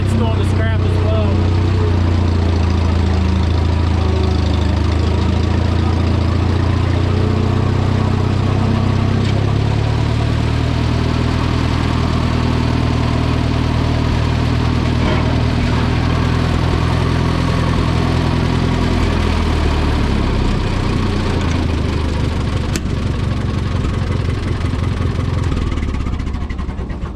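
An old tractor engine idles with a steady low rumble, close and loud throughout, holding an even drone the whole time with no clear revving.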